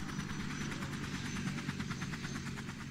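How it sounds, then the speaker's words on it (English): A small helicopter in the video game Resident Evil Remastered, a steady fast rotor thump over engine whine, continuous and fairly faint, with no talk. "That's a very small helicopter, I have to say."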